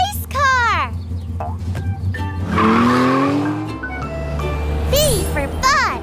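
A cartoon race car speeding off with squealing tires, a rising engine whine and skid sweeping through the middle, with bright chirpy voices and cartoon sound effects around it.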